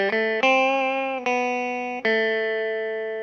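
Clean electric guitar notes ring out one after another through an amp with the reverb turned down, each plucked note sustaining and slowly fading, with no echo.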